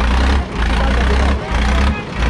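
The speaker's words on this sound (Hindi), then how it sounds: "दोबारा दौड़ा है टेढ़ा करके ट्रैक्टर" A Deutz-Fahr Agrolux 80 4x4 tractor, an 80 hp model, runs with a loud, deep diesel rumble close by, its low throb dipping briefly twice as the load shifts.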